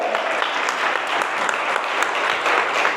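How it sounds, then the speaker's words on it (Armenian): A church congregation claps loudly and steadily after a call to applaud the Lord, a sustained dense patter of many hands filling the room with no speech. "բարձր ծափահարի Տիրոջը"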